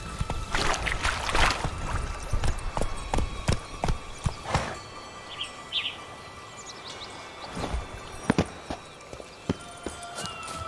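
Roach the horse trotting in The Witcher 3, a steady run of hoof clip-clops near and fairly loud, mixed with game ambience and faint bird calls.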